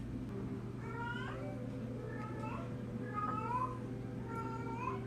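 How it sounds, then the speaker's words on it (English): A house cat meows several times in a row just outside, apparently trying to get in, its calls fairly faint over a steady low hum with no talk. "my cat is talking"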